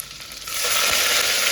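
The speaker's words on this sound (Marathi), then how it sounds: "जिरे मोहरीची फोडणी देऊन यामध्ये भरपूर सगळा लसूण कढीपत्ता हे टाकून घ्यायचं" Cumin, mustard seeds, garlic and curry leaves hit hot oil for tempering. A quiet start gives way to a sudden loud, crackling sizzle that holds steady to the end.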